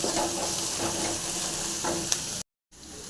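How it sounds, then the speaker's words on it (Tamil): Steady sizzling of bamboo shoots being stir-fried with spice powder in a hot pan, with occasional scrapes and stirring clicks, then a brief silence before the frying resumes more softly. "இப்போ நல்லா ஃப்ரை ஆகிட்டோம்"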